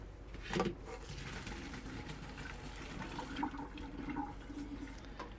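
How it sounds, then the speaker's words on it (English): Water runs and splashes into a kitchen sink as cooked tapioca pearls for boba milk tea are drained, a steady close rush with a brief louder gush near the start. "And then our tapioca pearls, will drain those out in the sink."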